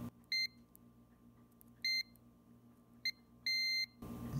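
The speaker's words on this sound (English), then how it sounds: "So I've got it in the mode that beeps when there's continuity." Four short electronic beeps from a multimeter in continuity mode at irregular intervals, the last held a little longer, over a faint steady hum.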